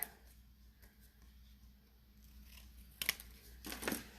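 Paper cards being trimmed give faint, close snips and slicing rustles, scattered at first and then gathering into a few quicker cuts near the end, without talk.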